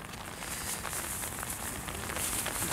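Heavy rain falls outdoors at an offshore radio-controlled boat club near Paris, a steady, fairly faint hiss of downpour with no voices.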